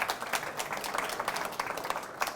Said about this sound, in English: Big round of applause for Chris, please.